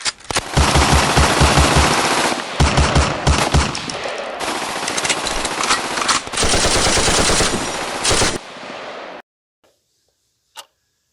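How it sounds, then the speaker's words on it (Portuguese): Rapid bursts of loud gunfire crackle almost continuously for several seconds, then stop abruptly, leaving near silence broken by one faint distant pop. "Ei, você ouviu isso? Pareciam ser tiros."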